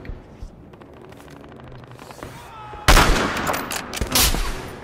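Sniper rifle gunfire in a video game, a sudden loud blast midway that cuts in over quieter game ambience, followed by a second burst.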